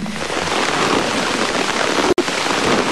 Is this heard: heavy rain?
yes